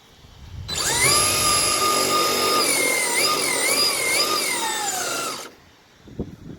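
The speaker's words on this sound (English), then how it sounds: "Give the tires a quick little burn." A Team Associated DR10 drag RC car spins its tires in a quick burnout, a loud, steady high-pitched electric motor whine with rising and wavering pitch lasting about five seconds, then cutting off sharply.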